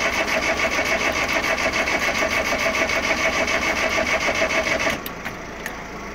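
A ZAZ car engine catches and runs roughly with a fast pulsing rhythm for several seconds, then abruptly dies, leaving faint background noise.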